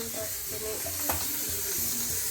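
Oil hisses steadily in a pan while chicken cooks, a constant close sizzle with a single sharp tick, and muffled voices talk faintly underneath.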